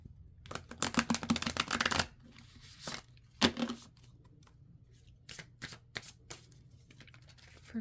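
Tarot deck being shuffled close by, a riffling burst of about a second and a half followed by several shorter taps and shuffles, quiet room, no talking.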